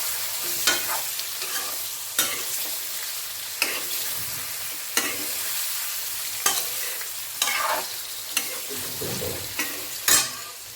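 Pumpkin pickle sizzles steadily in a pan while a spoon stirs it, with repeated scraping strokes every second or so over the constant frying hiss, close and clear with no voices.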